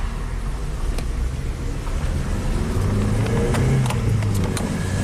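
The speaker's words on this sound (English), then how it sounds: "Man, it feels good when this car drives the way it's supposed to." An Opel Astra drives along a road, a steady low engine and tyre rumble with a slight rise in pitch toward the end, heard from inside the car with no talk.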